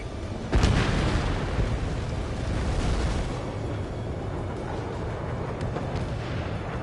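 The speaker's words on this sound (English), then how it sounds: "Missile launched." Missile launch and explosion in the Ace Combat 7 video game: a sharp boom near the start, then a sustained roaring, rumbling wash of blast and fire noise that stays loud throughout.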